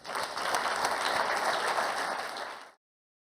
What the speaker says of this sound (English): I know you've all just done a round of applause, but I am going to ask you to do another one